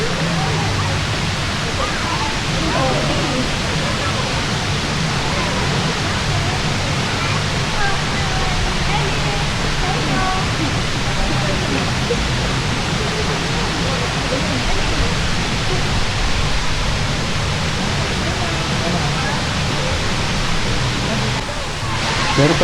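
Batlag Falls in Tanay, Rizal, heard up close as a steady, loud rush of falling water that masks everything else and holds unbroken throughout; voices may be faintly buried beneath it.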